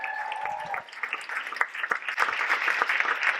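An audience at an Ignite Talks event claps steadily in a dense wash of applause for a presenter, moderately loud and continuous, with a brief tone fading out near the start.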